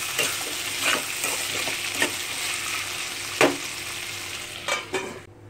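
Black chickpea ghugni frying in a pan while a spoon stirs it, a low steady sizzle broken by several sharp clinks and scrapes against the metal, fairly quiet and with no talking.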